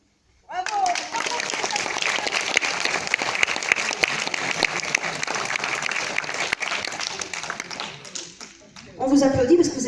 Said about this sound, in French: On vous applaudit parce que vous avez bien chanté.